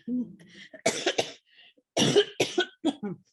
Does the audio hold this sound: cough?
yes